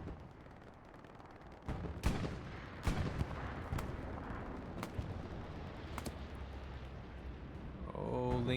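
Gunfire in a first-person shooter match, heard as a series of sharp, separated shots and bursts over a low rumbling background, loud at moments, with a voice speaking faintly at the end.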